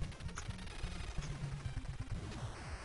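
Rapid gunfire from the NES game Contra blasts away at the final boss, a heart, in dense repeated bursts over a steady background of game music.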